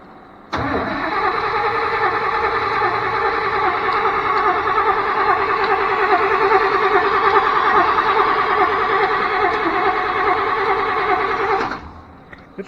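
A Chevy truck engine, helped by a battery charger, cranks steadily for about eleven seconds, a continuous loud churning drone that stops abruptly without catching.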